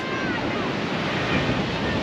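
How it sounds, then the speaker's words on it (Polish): Ocean surf washing onto a Cape Town beach, a steady broadband roar of breaking waves mixed with wind buffeting the microphone, continuous and fairly close throughout. "Fale są niezłe, można by popływać."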